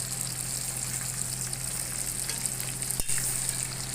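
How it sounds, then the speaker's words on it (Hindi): Tomatoes added to a hot pan for chicken charsi karahi sizzle and fry steadily throughout, close and continuous, with a brief clatter near the end. "अब हम इसमें टमाटर डाल देंगे"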